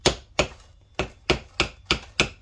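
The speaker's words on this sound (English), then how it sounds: "gentle taps with a brass hammer, though" Brass hammer tapping gently on a Super T10 four-speed transmission gear during a rebuild without a press: seven evenly spaced, crisp metallic taps, close and moderately loud, with no talk.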